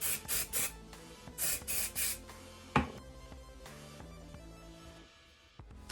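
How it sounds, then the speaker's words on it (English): Texture finishing spray spritzed onto hair ends, several short hissing bursts in quick clusters, close and fairly quiet, followed by faint handling noise. "So shake your product and then spritz through your ends."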